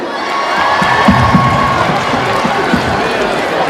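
A large audience at a party night in a Paris concert hall cheers and whoops loudly and steadily, with a dense crowd roar that holds throughout and a few shouts rising above it.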